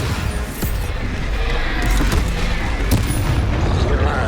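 Heavy, booming Bombarda explosion spells in Hogwarts Legacy, a dense rumbling blast with crashing debris and a sharp crack midway, loud and sustained throughout with no pause.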